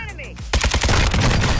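A shotgun fires in a first-person shooter game, loud rapid bursts of blasts packed closely together after a short voice at the start.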